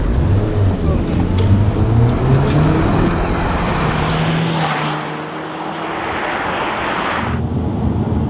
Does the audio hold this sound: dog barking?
no